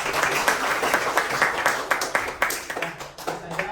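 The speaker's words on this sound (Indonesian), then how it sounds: "Mungkin sebelum Bapak akhiri kita tepuk tangan dulu semua" University students clapping at the close of a lecture, a fairly small group producing distinct, closely spaced hand claps in a loose rhythm, near and clear, with no voices over it.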